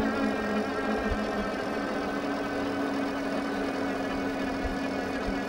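A Tesgo fat-tire folding e-bike climbs a hill on throttle alone, its hub motor giving a steady whine over a constant rush of wind and road noise that holds level the whole time.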